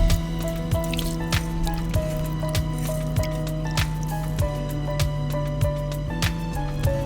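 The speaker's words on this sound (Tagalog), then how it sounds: "let's wash our basmati rice" Basmati rice being washed gives wet, squishy sloshing and dripping water, close and fairly steady, with soft splashes recurring about every half second.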